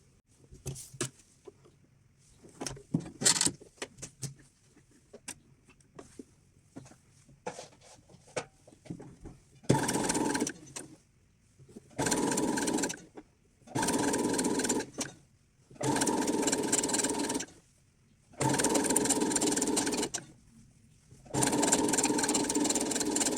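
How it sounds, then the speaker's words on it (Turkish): Sewing machine stitching a 5 mm seam along fabric for an elastic hair tie, running in six steady bursts separated by short pauses after quieter handling noises at the start, with no voices. "Şuradan şöyle 5 milimlik dikiyorum."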